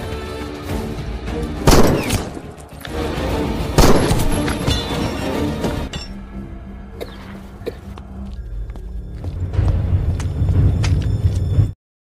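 Loud bursts of gunfire and heavy explosions in an Indian war film battle scene, dense rattling shots with booming blasts around two and four seconds, continuing as sustained battle noise with a rumbling low end until it cuts off abruptly.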